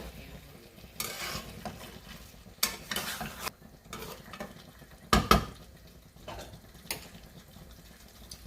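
Chicken kosha is stir-fried slowly in a pan, with a soft sizzle under intermittent spatula scrapes and a louder metallic clatter partway through, close and with no talking.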